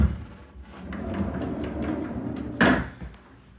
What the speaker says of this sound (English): Another barn door for the restroom.